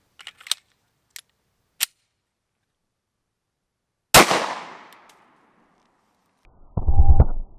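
A .45 pistol firing 230 grain Federal Premium HST, one sharp loud report with a decaying ring-out after a few faint clicks, followed by a short buzzing mechanical sound.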